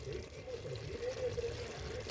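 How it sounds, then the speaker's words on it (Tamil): Water pours softly and steadily into a pot of duck curry for a couple of seconds, a faint continuous splashing with no other sounds. "இப்போ வந்து தண்ணி ஊற்றிக்கலாம்"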